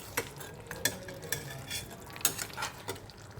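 A coriander katla fish curry is stirred in a hot pan, spoon clinks and scrapes recurring every half second or so over a soft, steady sizzle of frying.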